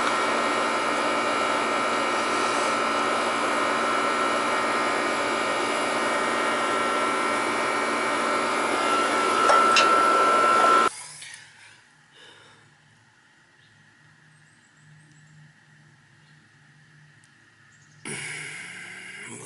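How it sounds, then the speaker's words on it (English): Nitrogen hisses loudly and steadily into the refrigerant lines of a Trane AC system, a broad rushing flow that holds for about eleven seconds, then cuts off to near quiet before a brief burst returns at the end. "we'll put a little nitrogen in there and see what happens"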